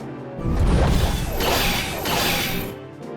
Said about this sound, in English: The sword blocks the numerous blows, smashing madly.